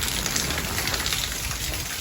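Dense, steady hiss of heavy rain pouring down on surfaces nearby, constant and loud without a break.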